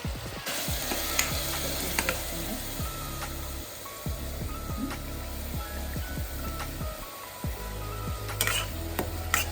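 A paste of onions and masala sizzles in oil for a Godavari-style fish curry. A spoon scrapes and clinks against the pan repeatedly over the steady frying hiss, and faint tonal sounds sit beneath.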